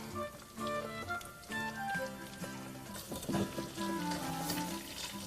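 Steady crackling sizzle of chili relleno bites frying in oil, faint and continuous, under a melodic music bed.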